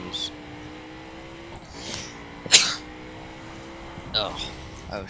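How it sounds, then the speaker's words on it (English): A short sneeze at about the middle, sharp and close, cutting through a steady racing-game engine drone in The Crew, with small vocal noises around it. "Oh no, I have a sneeze."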